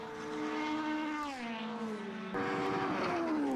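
Formula racing cars, including a Lola on a Formula BOSS Ireland circuit, rush past with rising and falling engine whine, one car sweeping by and a second surging in loudly near the end.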